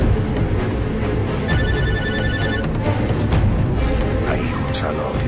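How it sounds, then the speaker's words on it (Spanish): A mobile phone rings in a bathroom, a bright electronic tone lasting about a second, set against steady low background noise and a voice talking. "sonó su celular"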